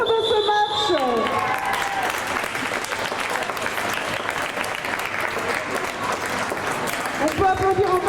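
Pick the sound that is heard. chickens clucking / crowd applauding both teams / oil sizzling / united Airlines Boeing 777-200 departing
crowd applauding both teams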